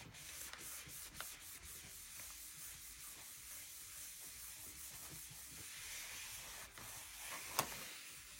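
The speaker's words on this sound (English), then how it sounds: "Let's give this a good wipe to make sure we don't have any residue on it." A cloth rubs and wipes a surface dry after an ink treatment, a faint, soft, continuous rubbing with light scraping strokes and one brief sharp tick near the end.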